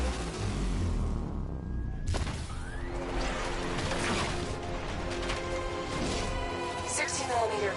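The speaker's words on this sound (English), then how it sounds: ".60mm cannon operational." Heavy cannon fire from a 60mm gun on an unmanned tank in a Batman video game, loud booming blasts and crashing impacts over dense mechanical game sound, continuous throughout.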